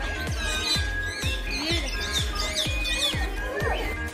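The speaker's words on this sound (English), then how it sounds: "The macaws were also fantastic to see." Macaws at Bird World and Gardens in Maleny, Queensland, Australia let out a rapid string of harsh, close squawks, about a dozen sharp calls in quick rhythm with other bird chatter mixed in.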